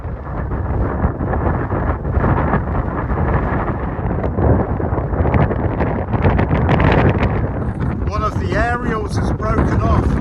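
Strong wind sweeps across open Peak District moorland, a loud, continuous buffeting roar against the microphone with gusty surges. A voice speaks through the gusts.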